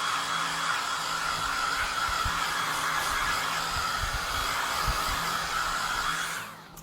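Handheld heat or hair dryer blowing over a winter toile craft project, a loud continuous close whoosh that holds steady for several seconds before switching off at the end.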